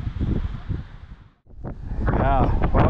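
Low rumbling gusts of wind buffet the microphone outdoors in an open field during a metal detecting outing in nasty weather, cut out briefly, then return stronger while a person talks.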